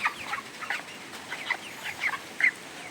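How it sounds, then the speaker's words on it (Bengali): Hens on a hot day, stressed by the heat, giving short scattered clucks at a steady, moderate level against a quiet background, with no voices. "মুরগিগুলাই দেখেন হাঁপাইতেছে, মনে হইতেছে যে কত গরম লাগছে ওদের"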